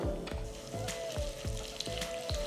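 Hot ghee sizzles steadily while mustard seeds pop and crackle in irregular bursts, close up with no talking.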